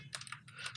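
Fingers type text on a computer keyboard, a quick run of several soft key clicks, close and quiet.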